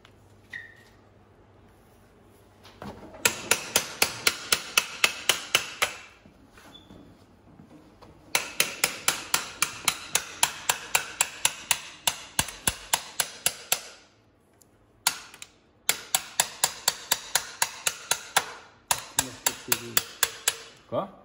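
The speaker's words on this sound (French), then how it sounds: "Avec ton petit marteau." A small hammer strikes repeatedly on a Kawasaki KLX 110 motorbike engine during an engine swap, coming in several bursts of rapid, sharp metallic taps with short pauses between them, and faint background voices.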